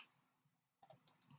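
A few sharp computer mouse clicks, quick and close, after a brief quiet pause, pressing a compute button in statistics software.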